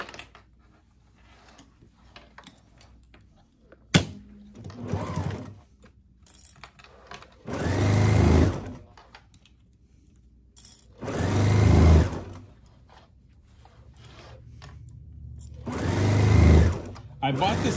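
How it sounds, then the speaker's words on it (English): A sewing machine hems the leg of a pair of sleep shorts in several short bursts of whirring separated by quiet gaps, close and fairly loud, with a voice speaking in between. "Backstitch a little bit, and now I've got a completely finished bottom finished hem for that one leg"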